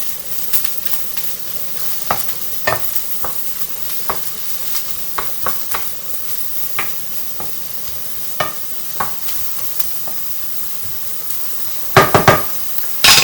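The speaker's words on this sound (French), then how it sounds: "Je ne sais pas si vous entendez dans la poêle, mais on sent que là c'est bien en train de cuire" A vegetable curry cooks in a frying pan with a soft continuous sizzle, while scattered sharp clicks and scrapes of a utensil stirring it come and go, louder clatter near the end, no voices.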